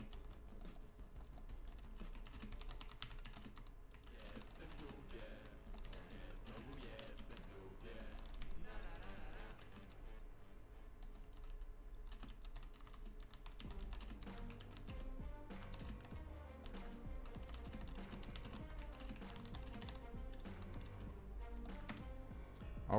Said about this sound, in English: So let me type the message.